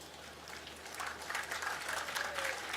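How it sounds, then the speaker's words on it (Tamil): An audience at a Tamil poetry reading breaks into applause, a dense crowd clapping that swells after the first second and holds steady and fairly loud to the end. "இப்ப கைத்தட்டல் கூடுதலா வரும் பாருங்க."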